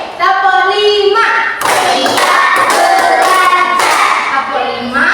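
Hands clapping in unison from a classroom of children doing a counted clapping drill, several bright claps in quick succession, with a teacher talking over the start and end.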